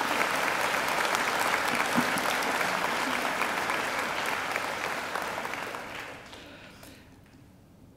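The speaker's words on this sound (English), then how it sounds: "I think he deserves another great round of applause." A graduation ceremony crowd applauds a guest speaker with a full, steady round of clapping that stays strong for several seconds, then thins and fades away toward the end.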